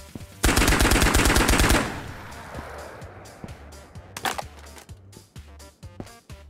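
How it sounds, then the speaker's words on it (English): Gunfire in the Ghost of Tabor video game: a rapid burst of automatic shots right up front, then scattered single shots and another sharp crack further on, loud and close with no talking. "there's suppressed shots somewhere."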